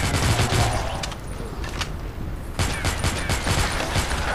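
Rapid automatic gunfire from an offline Android mobile horror shooter, a dense, loud stream of shots that runs almost continuously, briefly easing off midway before resuming at full intensity.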